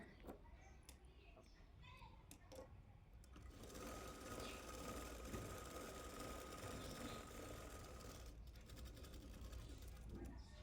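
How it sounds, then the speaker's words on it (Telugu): A sewing machine double-stitching over a blouse cross belt, starting after a few clicks and tapping, then running in a steady continuous whir for several seconds before pausing briefly and resuming, with a voice faintly in the background. "క్రాస్ బెల్ట్ పైన డబల్ స్టిచ్ చేసుకుంటున్నాను"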